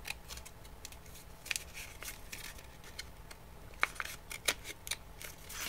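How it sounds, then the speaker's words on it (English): Quiet snips of scissors cutting paper strips for Möbius strips, irregular crisp clicks and rustles close by, with no talking. "If it's getting hard, you can reposition your scissors."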